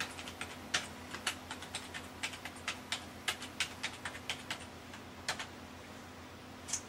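A computer keyboard is tapped in short bursts of crisp, close keystrokes, irregular clusters of clicks with brief pauses, no voices.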